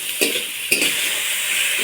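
Chopped tomato and onions sizzle steadily in a pan while cooking jackfruit kalia, a continuous bright frying hiss broken by two short stirring scrapes near the start.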